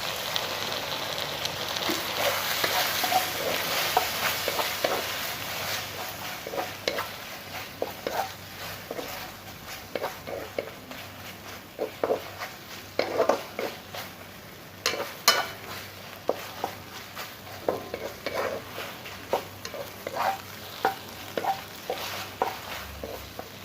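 Beef stir-fried in a pan for an oyster-sauce dish with a splash of mirin: a steady close sizzle with repeated scraping and tossing strokes of the spatula, continuing throughout with no talking.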